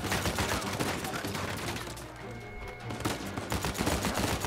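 In Uncharted 4, a sustained burst of rapid gunfire rattles on with only a brief lull in the middle, dense and close, over a steady background of battle noise.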